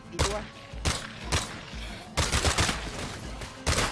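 Gunfire in State of Decay 2, repeated loud, close shots in irregular bursts, some in quick doubles, spread across a few seconds of action.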